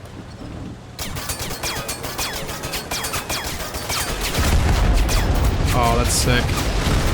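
Rapid bursts from a vehicle-mounted 7.62 machine gun in the war game Total Conflict: Resistance. The crackle is dense and close, followed by heavier booms and crashes from an anti-tank missile strike and its impact. Someone talks over the shooting.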